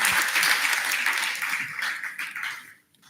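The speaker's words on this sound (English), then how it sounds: "A round of applause for them, please." A conference audience at an African Bitcoin event gives a short burst of dense applause that stays strong, then fades and stops abruptly near the end.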